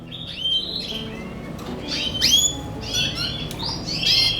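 Canaries, a breeding male and female, chirp and sing in a cage with quick bright tweets and trills. The calls come in repeated bursts over a steady background hiss.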